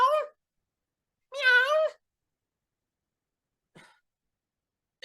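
A person voices a drawn-out meow imitating a cat, followed by a second longer meow, then a faint short sound.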